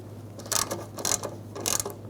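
A ratchet snugging aluminum valve cover bolts on a 2002-2006 Toyota Camry: three short bursts of rapid clicking over a low steady hum, close by.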